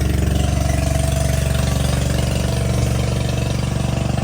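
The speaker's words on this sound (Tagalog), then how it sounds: "Palagi po may dumadaan dito ng bangka." A loud, steady motor drone with a rapid chugging pulse, constant and close throughout, from a bangka boat engine passing a fishing spot in Pakatan.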